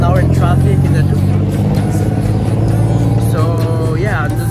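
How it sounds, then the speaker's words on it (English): Bangkok road traffic rumbles as a loud, continuous engine hum from vehicles close by, with people talking over the noise. "now we're in traffic"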